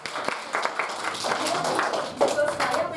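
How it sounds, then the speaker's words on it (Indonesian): Students in a sociology microteaching classroom clap briefly and unevenly, with voices talking over and around the clapping. "tepuk tangan untuk Fiski."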